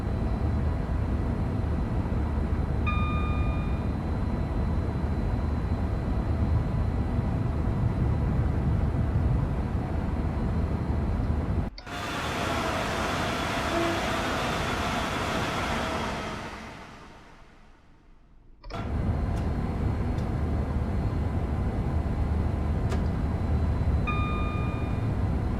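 A Pendolino train runs the Birmingham to Crewe route in Train Sim World 6, giving a continuous cab rumble that shifts abruptly to a brighter roar midway, fades, then snaps back to the earlier steady drone.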